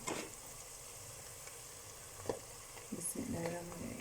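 Ginger garlic paste sizzles steadily in a hot pan while a chana curry is cooked, a soft continuous frying hiss with a couple of brief stirring clinks near the end.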